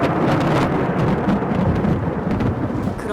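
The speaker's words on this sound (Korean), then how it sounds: "폭풍과 같은 현상이 일어나면서 포츠다운 언덕 위의 하늘은 번개로 완전히" Thunderstorm with lightning over Portsdown Hill, heard as a steady, loud, dense rumble and wash of rain and thunder noise that fills the whole stretch without a break.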